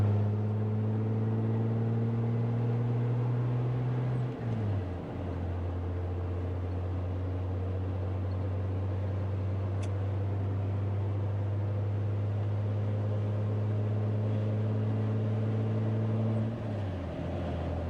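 A Jeep TJ on 33-inch tires with 3.07 gears pulls onto a highway in third gear, its engine a steady loud drone with a brief dip around a gear change near four seconds and again near the end, with road noise throughout.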